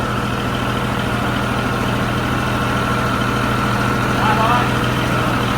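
A Peterbilt 379 truck engine idles steadily to build air pressure, a loud, continuous low rumble with an even drone that holds unchanged throughout, close by and alone.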